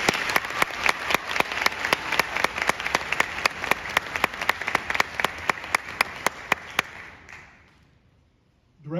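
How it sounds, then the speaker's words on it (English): A band festival audience applauds loudly, with a crisp rhythmic clap pulsing over the dense applause, then breaks off abruptly into near silence before a faint sound returns at the very end. "Let's give them a round of applause, please."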